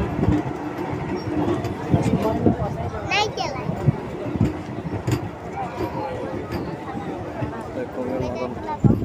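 Ranchi-Asansol passenger train at a station platform, a low rumble and clatter of rail cars that runs throughout, with a brief squeal partway through and people talking and a crowd murmuring over it.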